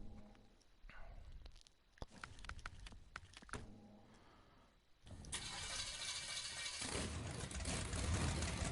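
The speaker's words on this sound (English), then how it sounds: "The engine noise is a little bit repetitive and looping" The Insanity Crawler vehicle's engine in a snowy video game map loops with a repetitive drone. It is quieter and choppy at first, then swells into a loud, steady roar for the second half, with no talk.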